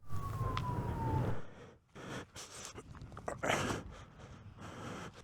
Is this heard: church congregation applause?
no